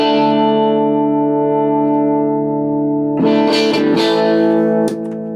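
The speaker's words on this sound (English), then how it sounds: "Clean sound, low gain side." Electric guitar plugged into an amp through a Priest of Tone v.2 pedal on its low-gain side: a long ringing chord fades, then a burst of quicker picked chords, loud and alone with a touch of echo.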